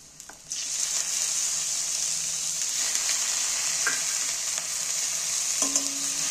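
Fish fat dropped into a pan of onion and garlic bursts into a loud, bright sizzle that holds steady, with occasional stirring clinks and scrapes; no talking.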